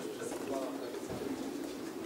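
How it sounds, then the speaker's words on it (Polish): Racing pigeons arriving at their loft coo in low, steady, overlapping calls close by, with a faint background murmur throughout. "Tutaj cały czas te gołębie przylatują."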